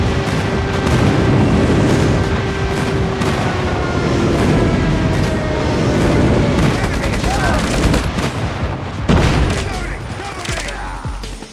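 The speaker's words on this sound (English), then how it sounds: "Friendly airstrike incoming." Airstrike explosions in a Call of Duty ranked Hardpoint match, heavy booms mixed with dense rapid gunfire, loud and continuous with short radio-style callouts.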